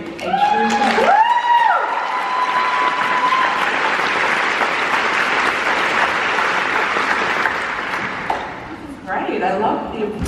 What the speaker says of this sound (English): I love the applause, the energy is good